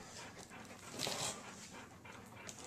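A dog pants softly and quickly indoors, with a brief whimper rising in the middle, close by and with no talking.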